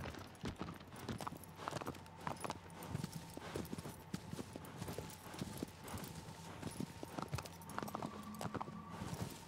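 Steady clip-clop of horse hooves from a galloping or trotting horse in the video game Shadow of the Colossus, rhythmic and continuous at moderate volume with a faint background tone.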